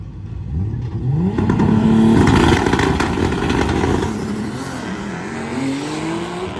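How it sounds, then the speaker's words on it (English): Drag race cars, including a 1968 Dodge Dart and a small Nissan, launch and accelerate loudly nearby, engines roaring and rising in pitch, with turbo blow-off valve fluttering and tire noise, no voices heard. "And the HKS Super Sequential blow-off valve fluttering, filling the valleys of Shady Side with the beautiful JDM noises of the S13 of Tommy Rosema."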